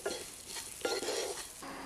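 A spoon stirs a rice flour noodle mixture with sugar and salt in a pan, giving soft scraping strokes with faint sizzling, close and quiet, with no talk.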